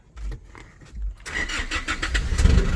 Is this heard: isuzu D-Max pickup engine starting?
yes